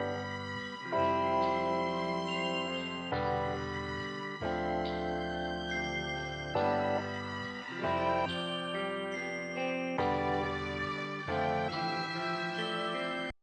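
Vintage-style nostalgic music sample, pitched up then slowed to half time and chopped, plays as a steady, full melodic loop with chord changes roughly every couple of seconds and sharp cuts between chopped segments, no voices.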